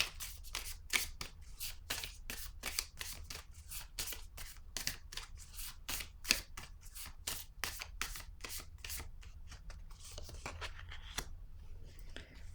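Tarot cards shuffled by hand, a long, even run of quick riffling flicks, close and fairly quiet, with a few softer card slides near the end.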